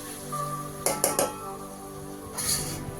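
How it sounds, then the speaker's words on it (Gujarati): Mushrooms tipped into a pan of cooked onion and tomato make a brief cluster of clinks and knocks against the metal, followed by a softer scrape a moment later. "હવે આપણે એની અંદર આરામ નાખી દઈશું."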